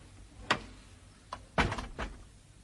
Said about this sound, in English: Have a walk down there and open that door.